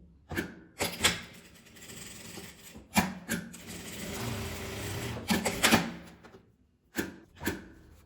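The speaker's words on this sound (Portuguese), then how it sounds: "Aí eu vou costurar as laterais deixando a distância pra desvirar." A sewing machine stitches the sides of a small fabric coin purse in short bursts of whirring, with quiet pauses and handling noises between the runs of stitching.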